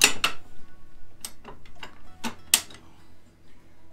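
The metal lever on a Hi-Lift jack is flipped, producing a handful of sharp, close metallic clicks and ticks spaced irregularly, with quiet pauses between them.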